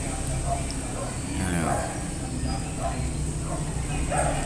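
Two dogs yip and bark a few times against steady background noise, with people talking nearby.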